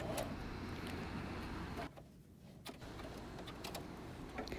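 A sewing machine stitches across the top fold of a fabric wine bag, its motor whirring steadily up close, stopping briefly for about half a second, then running on to finish the row.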